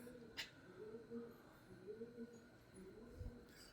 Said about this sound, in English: I don't know what that bird's saying.